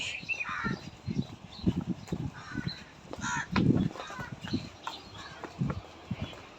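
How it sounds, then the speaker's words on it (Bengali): Crows cawing on a morning street outside a house, several harsh calls at uneven intervals mixed with other birds and background voices. "সকালবেলা কাক পাখি"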